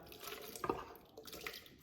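Corn chowder is poured gently into a blender, giving a faint, soft liquid pouring and dripping sound over about two seconds with a small splash near the middle.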